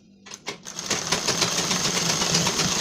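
Electric sewing machine stitching tucks on a blouse, starting with a few short bursts and then settling into a steady, continuous rapid whirring and clatter, close up with no talk.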